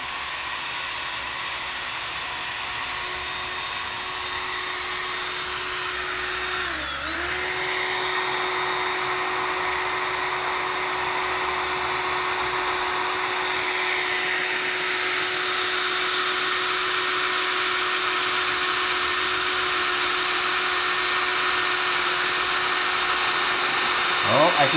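A power drill bores holes in wood with a steady, loud high-pitched whine that dips briefly partway through, then rises and strains toward the end as the bit breaks through.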